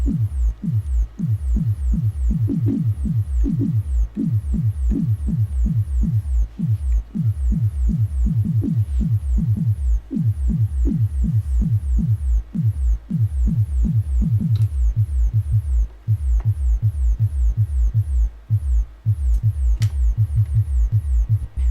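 A deep kick drum synthesized on an SDS_VCO percussion firmware module thumps in a steady, fast pulse, each loud hit dropping sharply in pitch, with nothing else playing.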